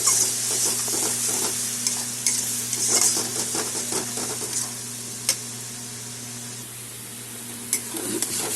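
Yardlong bean paste with salt and turmeric is stirred in a hot pan, steady sizzling and frying under scraping spoon strokes and occasional metallic clinks, close and without talk.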